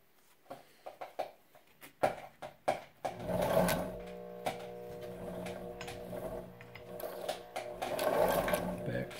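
A Family Sew sewing machine, turned by a Cuda crank wheel with its original 1.5 amp motor, starts with a few spaced clicks and knocks, then runs in close, rhythmic stitching bursts, with a voice speaking at times.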